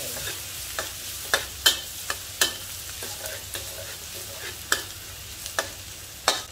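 Chili and garlic stir-fried in hot oil: a continuous sizzle broken by repeated sharp spatula scrapes and clacks against the pan, irregular and close, with no voices.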